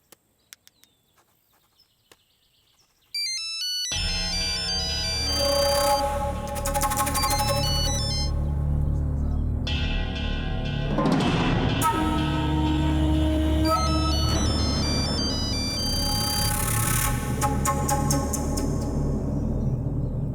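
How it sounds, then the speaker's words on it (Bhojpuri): A phone ringtone plays on and on with no answer in a Bhojpuri family drama scene. After a few faint clicks, a loud melodic tone with a chirpy, bell-like pattern starts and repeats steadily to the end. "माई मामा फोन नहीं खन उठावत। एक बेरा और लगा दे।"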